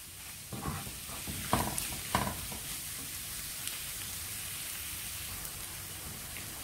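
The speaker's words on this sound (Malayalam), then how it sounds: "പച്ചമണമെല്ലാം മാറുന്ന വരെ വഴറ്റി കൊടുക്കാം" Masala with chili powder sautéing in a pan makes a continuous close sizzle, broken early by a few scraping spatula strokes before settling into an even hiss.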